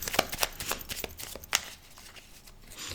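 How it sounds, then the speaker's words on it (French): Angel oracle cards are shuffled and drawn by hand, giving a quick run of soft, close flicks and riffles that fade to quiet handling near the end, with no voices. "on va tirer une carte"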